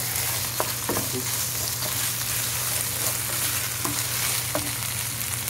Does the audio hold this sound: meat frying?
yes